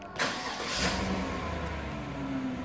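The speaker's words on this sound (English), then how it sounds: "Car starts." A Chevy Tahoe engine fires up by remote start: a brief cranking catch, then the motor settles into a steady, moderately quiet idle with no voices.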